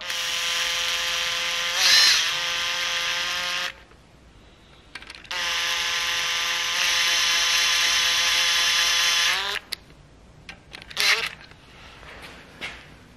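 A ratchet wrench snugs down the main bearing cap bolts on an Audi R8 V8 engine under rebuild, giving two long runs of rapid, bright mechanical clicking separated by pauses, with a few short ratchet bursts at the end, close and loud.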